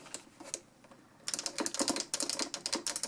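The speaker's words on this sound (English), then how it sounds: "Nice and clicky joystick." Sharp, rapid clicks from the arcade joystick and buttons of a Taito Egret Mini console, a few sparse taps at first, then a dense burst of close, crisp clicking with no talk.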